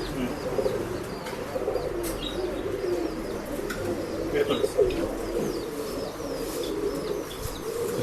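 Male pigeons coo steadily in a pigeon sale shop, with occasional chirps and wing flutters, close and continuous.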